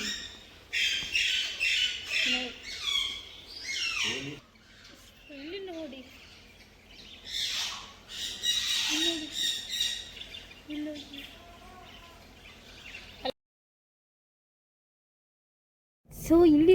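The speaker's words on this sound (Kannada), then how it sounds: "ಬರ್ಡ್ಸ್ ನೋಡಿ ಎಷ್ಟು ಕ್ಯೂಟ್ ಆಗಿದೆ ನೋಡಿ ಎಲ್ಲ ಕ್ವಾಯಿಂಗ್ ಕ್ವಾಯಿಂಗ್ ಕ್ವಾಯಿಂಗ್ ಕ್ವಾಯಿಂಗ್ ಕ್ವಿಂಕ್ ಅಂತ ಹೇಳ್ತಾ ಉಂಟು" Many caged birds squawk and chirp shrilly close by in bursts inside a pet shop in International City, Dubai, a busy chatter that drops out briefly to near silence before resuming.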